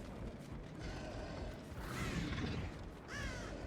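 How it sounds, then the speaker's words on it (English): Crows cawing in the Dead by Daylight game, a few harsh calls rising out of a noisy ambient bed, with a flurry of wing flaps and cries that swell midway and again near the end. "Crows come back. That was me who disturbed them,"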